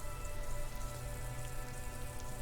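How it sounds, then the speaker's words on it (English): Rain pours steadily in the rainy city of Disco Elysium, a dense even hiss of drops with faint tonal music underneath, continuous and fairly loud with no voices. "Rain drips from the eaves and floods the gutters, washing the filth away."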